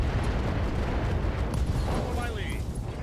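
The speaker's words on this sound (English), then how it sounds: "UAC-5 ammo explosion there" A UAC-5 ammo explosion in the mech game RogueTech, a dense rumbling blast of layered explosive noise that fills the clip steadily, with a brief rising whine near the end.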